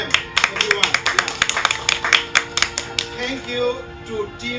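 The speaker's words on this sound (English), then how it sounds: "we want to give one big clap for them, everyone" An audience at a migrant workers' book fair gives a burst of clapping, a dozen or so sharp, fairly close claps in an uneven rhythm over a few seconds, with faint voices beneath.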